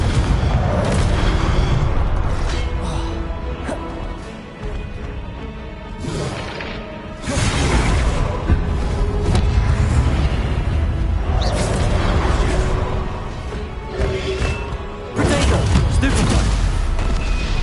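Confringo blasting spells in Hogwarts Legacy burst repeatedly in heavy booming explosions, several loud blasts with rumbling tails spread across the stretch, mixed with combat effects.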